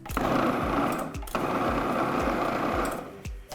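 A food processor whirs continuously, blending ground almonds, coconut, cinnamon and salt, its motor running steadily with brief pulses and a short stop midway, loud and close without talk.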